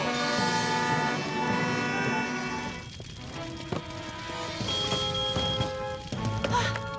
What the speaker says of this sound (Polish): Uwaga, na cześć Charlie'ego trąbimy, mili państwo